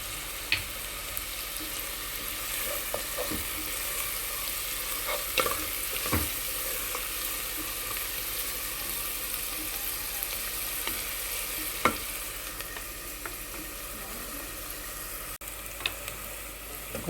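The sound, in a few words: onions and green chillies frying in a pan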